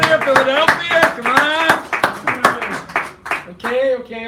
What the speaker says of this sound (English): Come on, some applause around here.